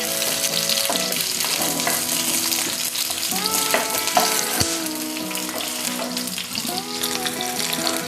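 Dried red chilli and other ingredients roast in a pan for an appalam chutney, making a steady crackling sizzle with intermittent scraping stirs and faint clinks of the utensil.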